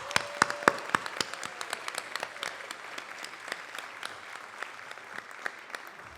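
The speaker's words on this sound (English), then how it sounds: "Let's all have a round of applause for our amazing Senior Council." A community audience at an appreciation celebration bursts into steady, dense applause for the Senior Council, a continuous wash of many hands clapping with a few sharper individual claps standing out early on, with no voices heard.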